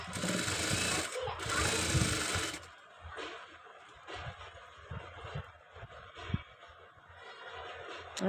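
A sewing machine stitching a katori blouse, a loud, fast mechanical whirring burst for about two seconds, then quieter intermittent clicks and handling sounds.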